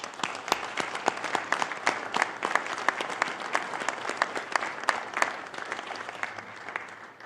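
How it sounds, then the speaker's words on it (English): A room of council meeting attendees gives a sustained round of applause for departing board members, dense overlapping claps holding steady throughout with no voices on top. "I want to just acknowledge all of you with a round of applause"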